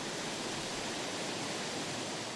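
Waterfalls in the Rufabgor Canyon in Adygea, a constant even rushing roar of falling water, steady and unbroken with no voices.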